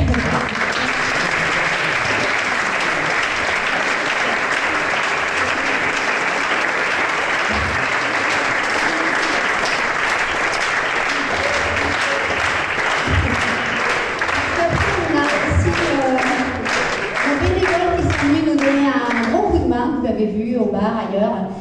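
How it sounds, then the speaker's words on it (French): Sustained audience applause for a festival team at an Easter marathon event, loud and dense throughout, with voices and cheering rising over the clapping toward the end. "je voudrais déjà qu'on les applaudisse"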